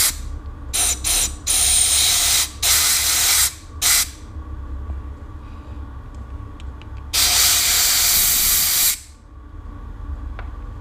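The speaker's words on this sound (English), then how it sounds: "So if I put some compressed air in here and keep my finger over the end of the hole, maybe it'll move the O-ring out" Compressed air is blasted into a hole in a Honda VFR750 carburettor, heard as loud close hissing bursts: several short spurts, then one longer blast, with quieter mechanical background between them.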